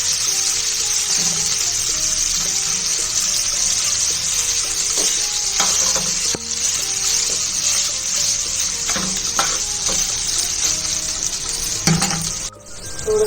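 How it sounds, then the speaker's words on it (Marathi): Noodles sizzle and fry in hot oil in a home kitchen pan, a loud continuous hiss broken by clinks and scrapes of stirring at irregular intervals, with no talking. "आता याच्यामध्ये तेल ऍड केलं मी आणि बस आता याच्यामध्ये नूडल्स ऍड करणार"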